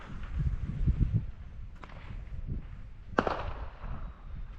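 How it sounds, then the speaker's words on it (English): Fourth of July fireworks over Boise boom and crackle at a distance, a cluster of low rumbling bursts followed by a sharper, louder crack near the end, with no talking. "I can hear explosions happening everywhere."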